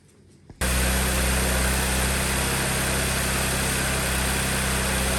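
An Audi engine fitted with an aftermarket intake cranks and catches after a brief quiet moment, then settles into a loud, steady idle with a deep rumble and an airy intake hum, heard up close.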